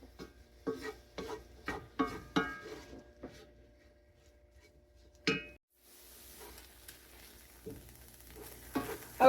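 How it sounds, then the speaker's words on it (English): Onions and ground beef are sautéed for a low-carb beef ricotta casserole, a spoon scraping the pan in a quick series of strokes, then a faint steady sizzle after a pause. "You'll saute this together for about 3 minutes. Let the onions get a little soft."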